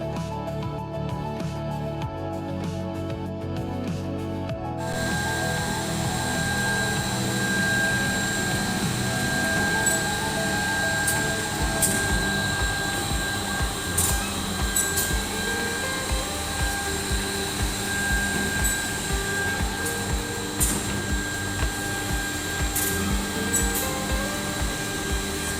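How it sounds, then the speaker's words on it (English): Edging machine running on wood in a workshop making bedroom cupboards, a loud continuous mechanical whine with rhythmic pulsing and occasional sharp clicks, steady throughout with no voices. "So that is an edging machine, and in the wording it's basically used to edge any wood around the sides."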